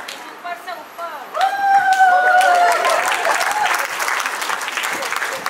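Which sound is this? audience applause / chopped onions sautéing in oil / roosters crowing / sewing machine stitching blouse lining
audience applause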